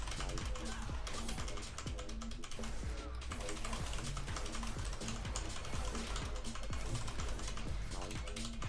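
Computer keyboard keys clatter in rapid, continuous typing, close and fairly loud, with the sharp taps running steadily throughout.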